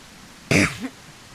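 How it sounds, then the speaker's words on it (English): A Carnotaurus dinosaur in The Isle video game huffs over a dead body: a single loud, breathy snort followed by a softer trailing grunt, heard alone and up close. "They sit over dead bodies and, like, huff at them."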